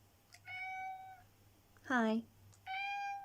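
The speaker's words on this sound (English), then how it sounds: "enter cat." A cat named Smoke meows three times, two drawn-out tonal meows around a higher, rising middle call, close and clear, with a brief spoken greeting between them.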